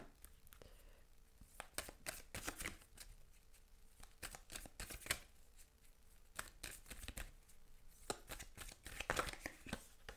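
Tarot oracle cards shuffled by hand in repeated quick riffling bursts, crisp papery flutters coming close and fairly loud with short pauses between, no talking.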